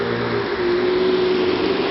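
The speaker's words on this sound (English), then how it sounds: "That fucking car go by." A car passing on a wet road during light snowfall, its engine hum and tire hiss swelling briefly nearby as it goes by, alone without voices.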